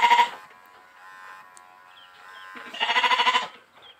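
A sheep being sheared lets out two loud, wavering bleats, one at the start and a longer one near the end, with a quieter murmur of background noise between them.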